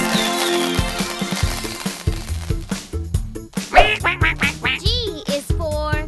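A cartoonish goose sound for the letter G, a run of about a dozen loud nasal quacks set over bright, playful music, with no talking.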